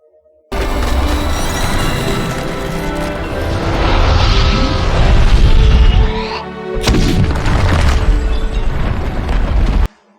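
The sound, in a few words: Barad-dûr tower destruction in The Return of the King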